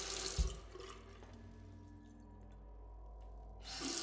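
Running water from a tap in a horror video game, a quiet steady faucet stream with a brief thud near the start and a swelling splash at the end.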